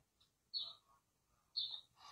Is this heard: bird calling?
yes